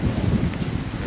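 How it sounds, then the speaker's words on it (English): Strong, gusty wind in stormy, dark weather near Bergen, a steady loud roar buffeting the microphone throughout with no talk. "Bergen weather. Very windy"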